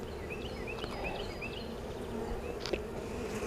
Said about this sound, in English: I do see some drone brood or drone bees flying around here.